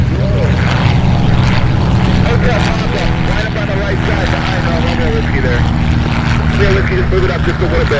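A propeller airplane at EAA AirVenture Oshkosh throttles up for takeoff, its loud, steady engine drone filling the scene at close range while a voice talks over it.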